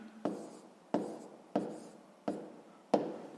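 A pen writes numbers on paper while a sixth-grade maths exercise on decimals is worked out: five crisp, evenly spaced scratchy strokes, close and clear, with no voices.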